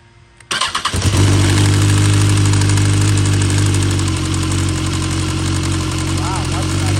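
BMW S1000RR sport motorcycle engine firing up after a plug installation; a short crank catches into a loud, close, steady idle with a deep throbbing rumble that holds, with a few faint quick blips later.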